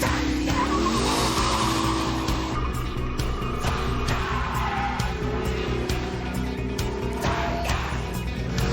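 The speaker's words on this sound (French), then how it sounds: "Ça sonne comme un V8, non? Parce que c'est un V8, de Corvette même, les amis." The Corvette-sourced V8 of a TVR Sagaris roars loud and close, rising and falling through repeated throttle sweeps with tyre squeal and track noise, over several seconds and with no talking.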